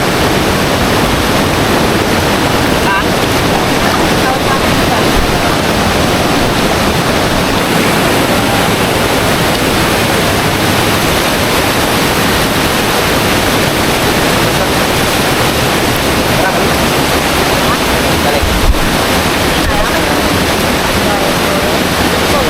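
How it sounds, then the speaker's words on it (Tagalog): A strong, fast river current swollen by heavy flow roars in a loud, continuous rushing wash that stays unbroken and close throughout, with no clear voices. "sobrang lakas ng agos dun, oh. Diba? Gawa ng ragasa talaga"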